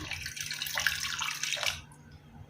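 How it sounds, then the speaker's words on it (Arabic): Water is poured from a tap-like stream onto flour and yeast in a bowl for bread dough, a steady close splashing rush that stops near the end, with no talking. "وتنخوي عليها الماء"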